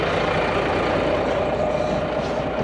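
A 2005 Volvo FH16 550 truck's heavy diesel engine rumbles steadily close by, a dense, continuous low drone with no voices.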